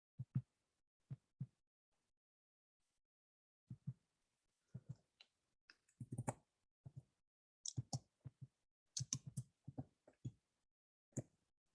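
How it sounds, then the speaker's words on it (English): Keystrokes tap on a computer keyboard in scattered close bursts of quick clicks with pauses between, faint and isolated in a quiet room. "I hear a lot of typing, Sourish."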